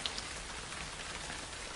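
A shower of rain at a bridge construction site in Guizhou patters densely and evenly on surfaces, a faint, steady hiss of drops with a few brighter taps.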